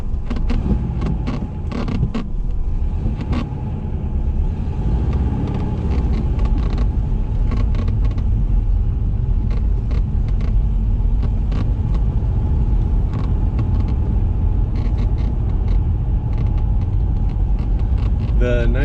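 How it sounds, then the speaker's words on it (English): A 1973 Porsche 914 with a 2-liter engine on a test drive, its steady engine and road rumble continuous and close throughout, with creaks and rattles from the cabin and intermittent voices over the drone. "this afternoon we're going to go for a test drive in my Porsche"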